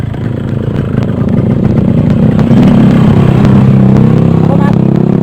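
A motorcycle engine runs nearby with a loud, steady mid-pitched rumble and mechanical clatter, idling roughly with slight shifts in tone, while someone talks over it.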